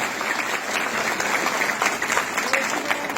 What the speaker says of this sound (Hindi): हमारी माताओं के लिए, बहनों के लिए जोरदार तालियां बढ़ती रहनी चाहिए।